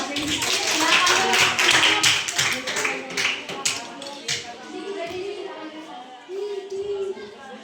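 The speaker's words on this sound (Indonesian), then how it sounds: "tepuk tangan dulu" A church youth group claps energetically for a few seconds, then the applause thins into scattered claps as voices talk underneath.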